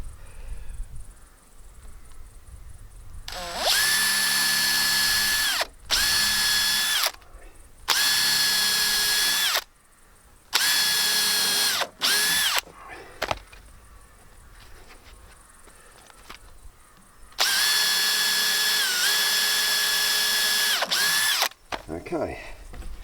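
A power drill pre-drills holes in wood in a workshop, with several short bursts of whining motor spin separated by pauses, each burst sounding loud and close.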